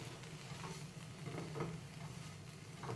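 A spoon stirs masala bread pieces in a hot pan, a soft sizzle with regular scraping strokes repeating at close range, fairly quiet, with no talking.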